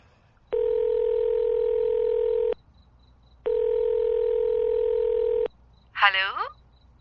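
Ringback tone of an outgoing phone call: two long, steady electronic rings separated by a pause, loud and close, followed by a brief burst of a voice.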